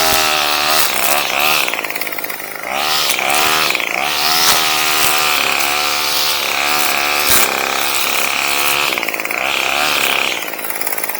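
A 12-year-old Bolens BL160 25 cc string trimmer runs loud and close in a yard, its engine revving up and down in steady waves for the whole stretch.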